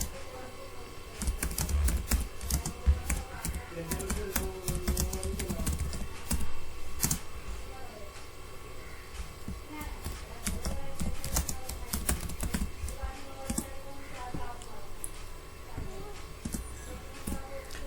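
Computer keyboard typing while writing a document, a fast irregular stream of close, crisp key clicks that runs almost continuously, with faint background noise.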